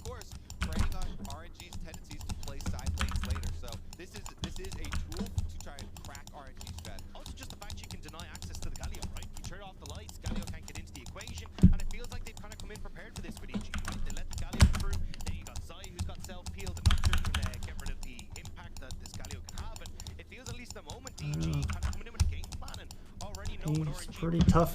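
Rapid, continuous clatter of computer keyboard keys during League of Legends practice, loud and close to the microphone, with occasional sharper key strikes and someone talking over it.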